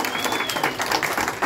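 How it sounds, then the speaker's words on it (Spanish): Applause for mariachi musicians at a quinceañera celebration, a dense wash of clapping from a crowd that fills the moment steadily, with a faint whistle drifting over it. "Un aplauso para los muchachos del"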